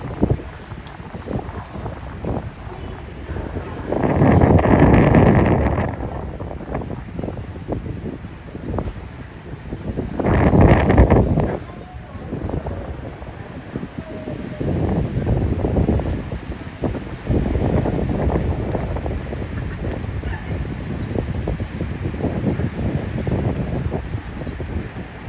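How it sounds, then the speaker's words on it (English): Strong wind buffets the microphone during a cherry blossom walk in Shibuya, Tokyo, with loud gusting roars around five and eleven seconds and steady rumbling bursts in between, no talking. "It's very windy in here."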